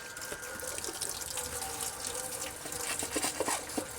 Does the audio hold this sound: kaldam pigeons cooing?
no